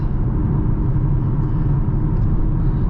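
Mercedes-AMG GLA 35 SUV (2021) driving at night, a steady low engine and road rumble heard from inside the cabin, continuous and fairly loud with no voices.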